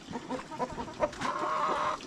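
A rooster at a rural Limbu household clucks in short, close, repeated calls that run into a longer drawn-out cackle, with no talk over it.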